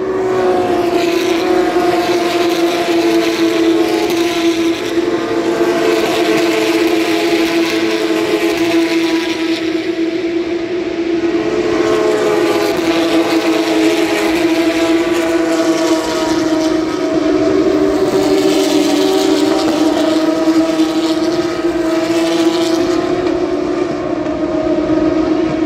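Porsche 911 GT3 Cup race cars on lap 2 of a race at Watkins Glen, New York, roar past in a loud, continuous wall of layered engine notes that swell and shift in pitch, with no voices.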